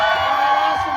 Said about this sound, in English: Let's give her a round of applause for